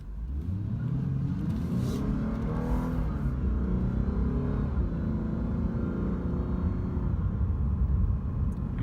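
A Lexus RC350 F Sport accelerating hard, its engine note rising and dropping as it shifts through the gears, loud and steady from start to finish with no talking.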